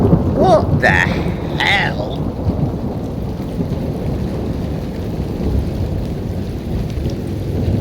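Constant thunder rumbles low and heavy through a thunderstorm with rain, a dense, unbroken roar buffeted by wind on the microphone, while a voice exclaims briefly near the start.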